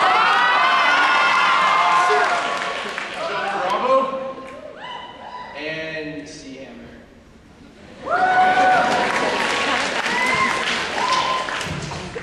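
A rubber-chicken-themed group cheer from a 2011 event, voices chanting and shouting with rhythmic claps and thumps, a sudden drop to squawky calls midway, then a loud burst of crowd cheering and yelling.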